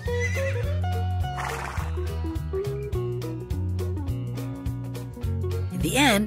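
A horse neighs loudly with a long, wavering whinny over a steady musical backing, ending in a sharp rising squeal near the end.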